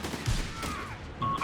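Bolt-action rifles firing in the Company of Heroes 3 video game: a few brief, moderately quiet cracks scattered over a second and a half of battlefield ambience.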